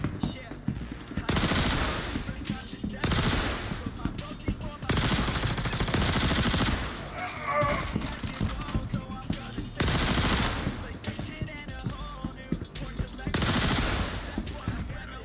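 Bursts of automatic gunfire from the space game Star Citizen crackle in repeated volleys of several seconds each, loud and close, with brief gaps between.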